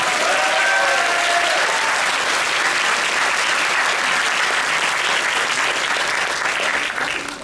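An audience claps loudly and continuously at the opening ceremony of Monaco Magic 2023, a thick, even wash of applause that holds steady before easing off at the very end.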